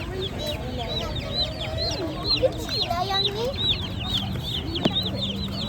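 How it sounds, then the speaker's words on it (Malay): Chicks cheep continuously among chickens at a morning market in Kuala Kangsar, Malaysia, as a dense, close chorus of high, rapid peeps over a low background hum, and a voice speaks briefly. "Dan ini anak ayam."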